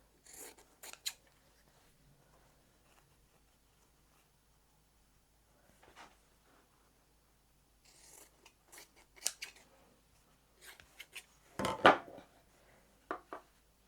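Scissors trimming a scrap fabric quilt block, a handful of quiet, sparse snips and crisp cuts separated by near-silence, with a louder, longer cut close to the end.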